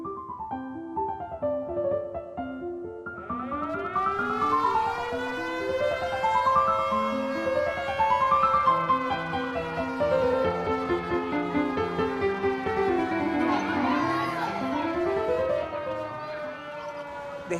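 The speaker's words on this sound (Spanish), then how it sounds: "el temblor y comenzó a sonar esa sirena" A school evacuation siren wails after an earthquake, with rising and falling tones that climb and overlap, loud and sustained throughout.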